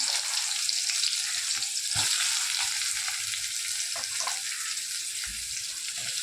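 Chopped onions, curry leaves and green chilli pieces fry in hot oil for a leafy vegetable curry, giving a loud, continuous sizzling hiss with a few soft utensil knocks.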